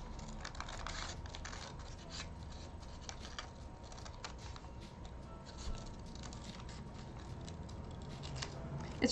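Scissors snipping repeatedly, close up, with crisp rhythmic cuts and light scratchy paper handling throughout.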